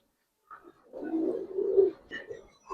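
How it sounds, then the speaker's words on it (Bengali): A Narayanganj pigeon cooing close by, a soft low throaty coo rising and pulsing over about two seconds, followed by a couple of brief higher sounds. "এটা নারায়ণগঞ্জের একটা কবুতর"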